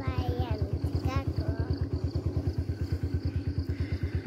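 A motorcycle engine thumps in a steady, rapid rhythm close by, holding level throughout while voices talk over it.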